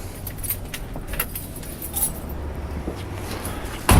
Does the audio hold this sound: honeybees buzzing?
no